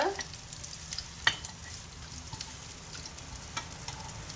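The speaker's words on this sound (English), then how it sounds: "so you just have it lightly fried" Cinnamon bread lightly frying in a pan, giving a soft continuous sizzle and crackle with a few small pops, fairly quiet and steady throughout.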